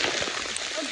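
Hail hammering down on walkers along the Camino de Santiago between San Anton and Castrojeriz, a dense, loud, continuous hiss of pelting ice with no gaps.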